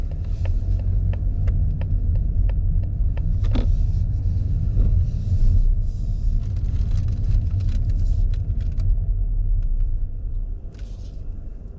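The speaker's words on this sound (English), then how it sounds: "Smooth, silky smooth engine." A 2021 Mazda 3 turbo's engine pulls hard through a 0-60 run, a steady loud interior rumble and rising drone with brief shifts, no talking over it.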